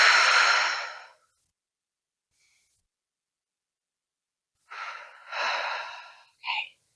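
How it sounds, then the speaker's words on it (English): Deep breaths drawn in through the nose and released through the mouth during a warm-up exercise; a long close exhale, a pause of silence, then a sniffing inhale followed by a breathy outward puff. "take a few deep breaths to start in through your nose and out through your mouth"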